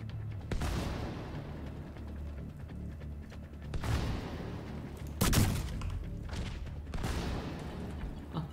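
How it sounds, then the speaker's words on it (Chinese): Sticky bomb explosives detonating in The Division 2, several sharp booming blasts over a rumbling gunfire-like background, the loudest burst landing midway and another following shortly after. "粘弹炸药，来一发，射他脸上。"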